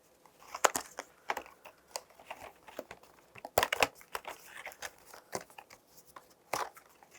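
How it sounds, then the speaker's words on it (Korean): A paper cutout being torn and pulled free along die-cut lines for a paper binocular craft, heard as a quick irregular run of close crisp rips, snaps and crinkles with no talking. "종이본을 칼선에 맞춰서 떼어주세요"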